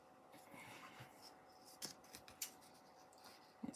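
Scissors snip and trim craft paper for a card page in quiet indoor surroundings, a few short crisp cuts and rustles near the microphone with no talking.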